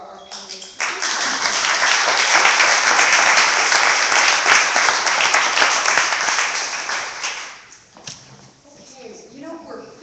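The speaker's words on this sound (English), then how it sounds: "please give a round of applause for our panelists" An audience gives panelists a round of applause, loud sustained clapping for about seven seconds that fades out, followed by a voice starting to talk.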